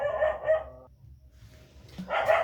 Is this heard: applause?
no